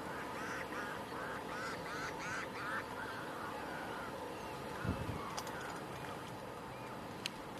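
Many ducks or similar waterfowl calling at a fishing lake, a steady chorus of quacks and honks from some distance, with an occasional nearer bump and no talk.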